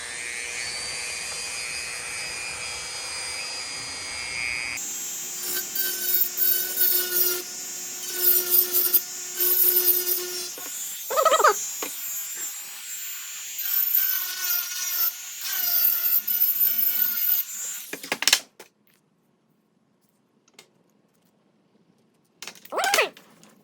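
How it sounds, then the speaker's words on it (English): A Dremel rotary tool grinds a metal part from a Pedersoli screw-barrel Liege derringer kit, a high whining buzz in uneven bursts for about eighteen seconds, then near silence with a brief final touch. "I think we'll hit it with a little Dremel here quick"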